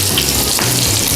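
Prawns coated in shredded coconut sizzle steadily in a frying pan, a close, continuous crackle of hot oil with no voices.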